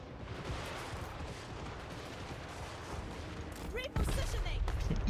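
Crane gunners firing in Total War: Warhammer 3, a steady rumble of distant battlefield gunfire that swells into heavier, closer blasts near the end.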